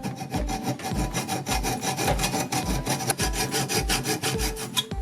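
Hand sawing through a homemade copper lug, cutting partway along it, with steady rhythmic back-and-forth strokes, close and loud, with no talking.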